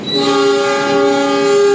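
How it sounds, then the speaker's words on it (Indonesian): A long, steady horn blast from an economy-class passenger train arriving at Lempuyangan station, loud and close, its layered tones held for the whole short stretch with no talk. "telah tiba di tujuan akhir dari kereta ekonomi kerakyatan, yaitu di stasiun Lempuyangan"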